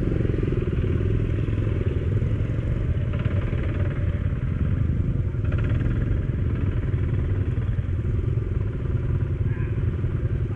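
A Honda Cub motorcycle engine runs steadily on a muddy trail, a loud, close, continuous drone with faint clatter, while people talk in the background.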